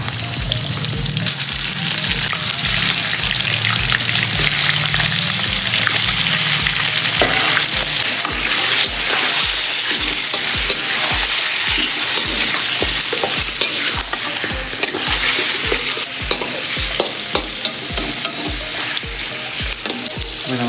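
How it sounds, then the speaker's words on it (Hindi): Chicken sizzling loudly in hot oil while being stirred in a pan for Lahori green chicken, with a continuous close fry hiss and regular scraping strokes, no talk. "साथ ही हम इसमें चिकन डाल देंगे।"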